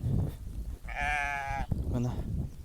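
A sheep with newborn lambs on a farm gives one loud, close bleat, followed by a shorter bleat, with rough outdoor background noise and people talking nearby.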